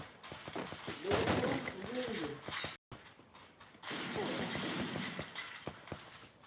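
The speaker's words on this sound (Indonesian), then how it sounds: "Ada tembakan lagi" Rapid gunfire bursts from the Free Fire battle royale game crackle in quick volleys, with a brief dropout midway, while players' voices talk over the shooting.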